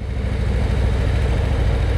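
A vehicle engine idling, a loud close rumble with a low, even pulsing throb that holds steady throughout, with no talking.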